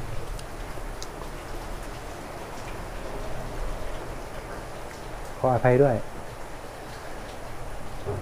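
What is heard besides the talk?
rain falling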